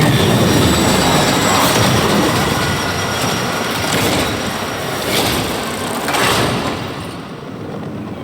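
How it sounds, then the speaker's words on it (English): A train arriving in Warframe, with a loud, sustained rumble, rolling clatter and high metallic squeals swelling in waves, then easing off slightly toward the end. "The next train is arriving."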